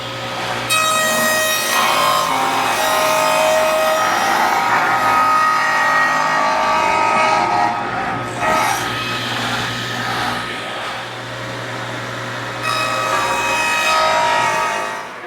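A table saw rips wood boards to their finished width, whining loudly and steadily through several long cuts with brief dips between passes, close by and with no speech.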